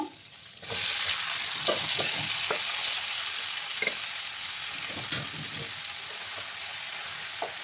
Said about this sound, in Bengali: আমার এগুলো আমি কড়ার মধ্যে আরেকটু তেল দিয়েছি। এবার আমি এগুলোকে ভেজে নেব।